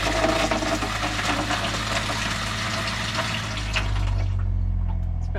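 Cold water runs hard from a newly plumbed campervan tap during a leak test, a steady rushing stream with a low pump hum, easing off near the end.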